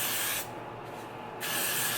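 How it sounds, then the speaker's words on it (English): Got2b glue spray hisses onto a lace frontal wig in two short bursts separated by a brief pause, close and loud. "I've got my Got2b glue spray, and I have my wig."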